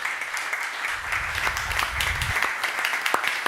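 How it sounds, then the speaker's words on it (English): An audience claps warmly to welcome Carl-Oskar Bohlin at an Almedalen panel event, producing a short, steady wash of applause heard at moderate distance with a low murmur beneath it. "please join me in welcoming Carl-Oskar Bohlin with a warm applause"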